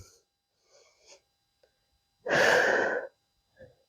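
A sharp, breathy inhale during a pilates exercise, short and close, between faint movement sounds and quiet breathing.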